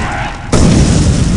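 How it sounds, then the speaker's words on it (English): Triple skull enemies bursting apart in the game Clive Barker's Undying: a sudden loud boom cuts in midway and rolls on as a dense, sustained blast. "Oh, triple skull. Oh god, they're gonna explode!"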